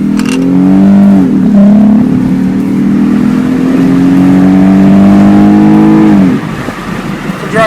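A Lexus with a non-responsive navigation system drives along with no music playing, its steady engine and road hum close and loud, holding a smooth tone for several seconds before easing off near the end.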